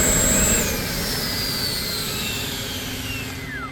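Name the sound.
FMS BAE Hawk 80mm RC jet engine running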